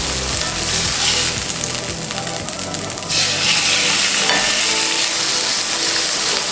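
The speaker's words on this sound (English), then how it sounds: "So I just let it saute until it has that nice golden brown crust, and then I flip it over." Chicken sautéing in a pan, seasoned with sea salt, black pepper and garlic powder, gives a steady close sizzle and crackle of frying, with brief stirring or shifting noises partway through.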